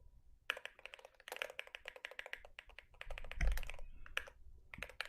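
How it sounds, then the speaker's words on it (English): A mechanical keyboard with Cherry MX Green switches clacks in quick irregular bursts of keystrokes, crisp and close, with short pauses between runs and no talking. "These Cherry MX greens are beautiful, but they don't have the thock that we're hearing from DM Mulroy's."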